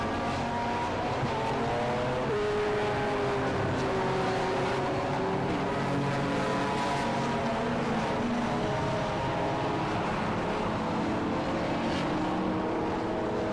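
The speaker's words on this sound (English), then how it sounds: "listen to the incredible sound of these beautiful cars" Saloon race cars from the Thunder Saloons and Blue Oval Saloon Series roar around the circuit in 2021, engines droning and shifting pitch in a continuous, fairly distant rumble.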